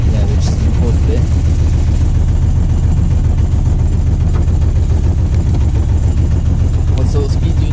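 A yacht's inboard engine runs steadily in gear aboard a light boat, a constant low, throbbing drone lasting throughout, loud and close, with faint voices in the background.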